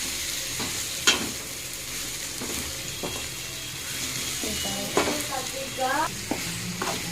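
Tomatoes with ginger garlic paste sauté in a pan with a steady close sizzle, broken by repeated scraping stirs and clinks of the spatula against the pan, with no talk.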